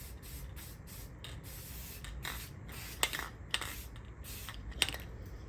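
Flat or semi-gloss black spray paint misted onto a VW Beetle vent glass frame: a soft, continuous hiss in a quiet room, broken by a few sharp little clicks.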